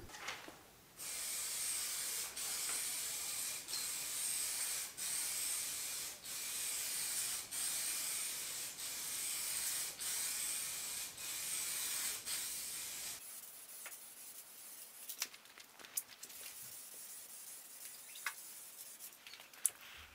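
Rattle-can spray paint hisses steadily in bursts as a second coat goes onto a car hood, a bright close hiss broken by brief pauses, then stopping with faint clicks and handling noises afterward.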